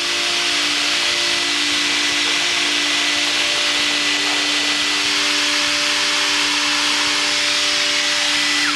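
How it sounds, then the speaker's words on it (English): Dyson Gen5 cordless vacuum cleaner with a Hyperdymium motor running continuously, a loud, steady high-pitched whine and airflow rush with a constant tone throughout. "So this is our latest machine with 280 air watts of suction."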